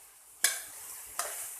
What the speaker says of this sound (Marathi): आता मी तुपामध्ये गाजराचा किस टाकून घेतलेला आहे आणि आता याला आपल्याला 3 ते 4 मिनिटं असं सतत परतवून घ्यायचंय